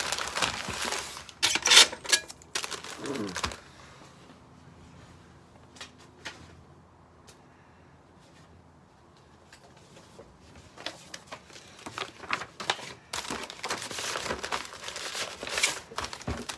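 Sheets of paper crinkle and crumple loudly in close, rustling bursts while a spatula is wrapped for shipping. A quieter stretch sits in the middle before the crumpling picks up again. No one speaks.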